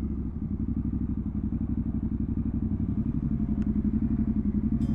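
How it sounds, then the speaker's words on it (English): A Triumph Scrambler 1200XE motorcycle engine thrums steadily at close range with a low, pulsing rumble, as if riding along at moderate speed. "We'll ride our motorbike up."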